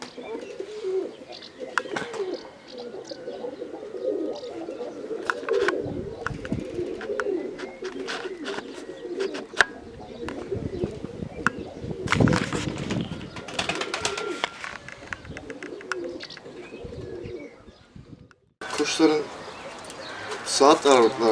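Tumbler pigeons, a grey-mottled female among them, coo repeatedly at close range in a loft, with steady bird calls and chirps running throughout and someone talking over much of it.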